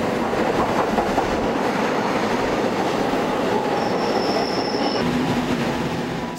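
A Seoul subway train runs along the track with a loud, continuous rumble and rattle of wheels. A high squeal of the wheels rises briefly partway through, and no one speaks.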